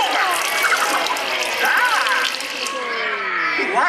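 Water sprays in a steady, loud rush onto people at a contest act, a continuous splashing hiss with voices mixed in.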